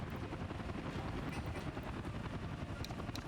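A helicopter in the city-building game Workers & Resources: Soviet Republic gives a steady, low rotor rumble and wash that holds evenly throughout, with no talk over it.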